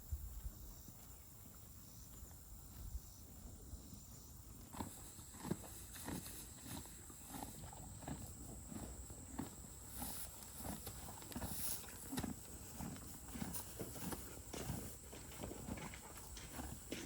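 Horses moving around near a horse barn in the evening, with soft, irregular hoof clops and shuffling steps at moderate distance over a quiet outdoor background.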